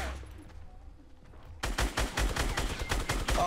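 Minigun fire in Fortnite erupts after a quiet stretch of faint ticking: a sudden, loud, rapid stream of shots that continues to the end.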